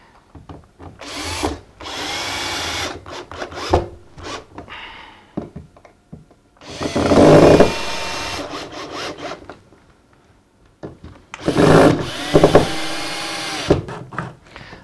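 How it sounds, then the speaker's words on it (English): A power drill drives a screw straight down through a stair tread into the riser in three separate bursts of whirring, each a few seconds long, loud and close, with rattling handling sounds between them. "screw straight down through the thread into the riser"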